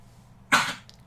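A dog gives one short, sharp cough just after waking, a single harsh burst lasting under half a second in an otherwise quiet indoor room.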